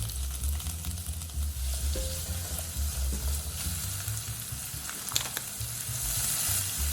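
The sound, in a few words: diced onion and carrot sautéing in butter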